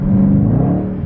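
A Dodge Hellcat muscle car engine gives a deep, loud revving rumble, close and steady for about a second with no voices over it.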